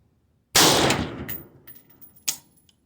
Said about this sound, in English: I'm going to shoot as fast as I can get back on target.